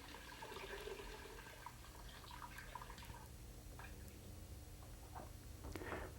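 Water trickles and drips faintly while an SCBA mask exhalation valve is rinsed in a washing bucket, with soft, close splashes over a low steady hum.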